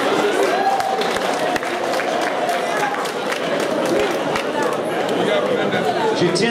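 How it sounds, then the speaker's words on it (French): An audience at a community association gathering applauds a woman in a hall, a dense, sustained round of clapping mixed with crowd murmur and a few sharp thumps. "Je vous demande d'applaudir pour elle"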